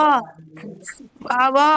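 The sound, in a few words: dog whimpering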